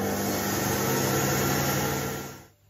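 A kitchen mixer warms milk and yeast at speed 2, giving a steady, loud motor whir that holds evenly before fading away at the end.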